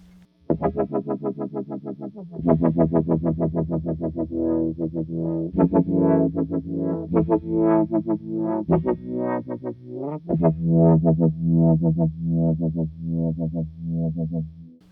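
A Moog synthesizer plays a rhythmic sequence of notes through a Step Audio Pilot Wave filter pedal's swirling, sweeping effect, pulsing steadily and fairly loud, with no voices.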